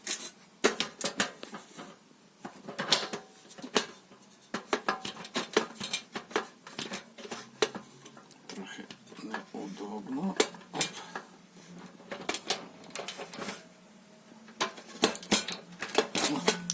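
Metal parts of a camping gas stove clink and scrape as a fitting is unscrewed with a tool, a busy run of sharp close-up clicks and taps with quieter stretches between.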